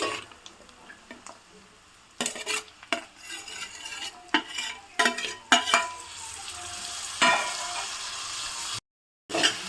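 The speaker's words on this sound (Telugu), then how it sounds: "కొంచెం ఆయిల్లో ఫ్రై చేసుకున్నాము." Dried fish frying in a little oil in a pan for a tamarind stew, a steady sizzle broken by repeated sharp clinks and scrapes of a metal spoon against the pan, close and fairly loud, no talk.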